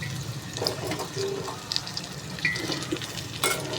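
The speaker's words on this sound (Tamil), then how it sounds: "இப்போது வந்து பட்டாணியும் உருளைக்கிழங்கு சேர்த்துக்கிறேன்" Peas and potatoes go into a hot pan and sizzle softly, with light stirring clinks and scrapes breaking through the gentle frying hiss.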